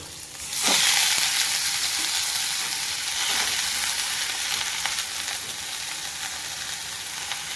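Dill greens with green chillies and crushed garlic dropped into hot oil, bursting into a loud, close sizzle that settles into a steady hiss with occasional stirring scrapes, no talking.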